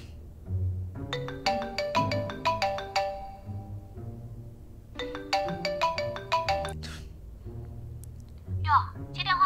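A phone ringtone plays a bright repeating melodic pattern in two bursts before the call is picked up, loud and close, with a voice briefly speaking near the end.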